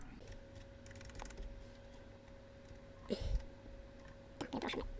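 A meeting name is typed on a computer keyboard, giving quiet, scattered clicks with a couple of brief louder bursts of keystrokes over low room hum, while a faint voice is heard at times.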